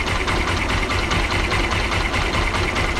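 An Apache RTR 160 4V BS6 motorcycle engine idles with a tick-tick fault, a steady close rumble carrying a fast, even ticking pulse throughout, with no voices.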